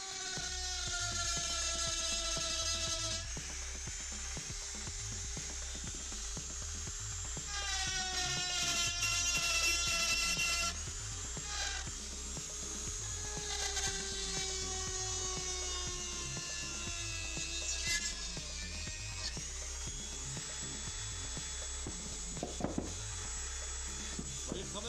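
A Dremel rotary tool engraves a small cross freehand, its high-pitched motor whine rising and falling in pitch as the bit bites in and eases off, with short louder bursts, running steadily and close throughout.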